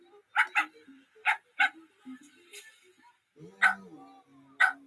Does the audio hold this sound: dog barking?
yes